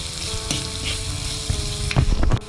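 Garlic, ginger and chopped onion sauté in hot oil in a pan, giving a steady close sizzle and fry with a few stirring scrapes and clinks toward the end.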